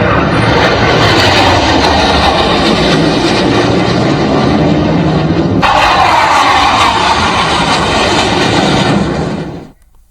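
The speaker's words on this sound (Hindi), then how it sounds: "लड़ाकू विमानों की गर्जना ने युद्ध की याद दिला दी।" Fighter jets such as Sukhoi and Mirage roaring overhead, a loud, broad, sustained jet roar that surges and shifts in pitch partway through, then fades out at the end, with no talking.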